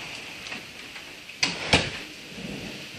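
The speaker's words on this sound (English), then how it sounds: "Yes, that was thunder." Two sharp thunder cracks split a steady rain-filled storm backdrop, the second louder and closer, with loose rumble afterward and no talk.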